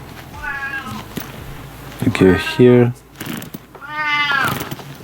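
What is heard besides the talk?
cat meowing in the background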